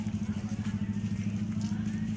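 Motorcycle engines idle in a mall's motorcycle parking lot in Caloocan, a low rhythmic pulsing rumble that stays fairly steady and moderately faint throughout the short stretch.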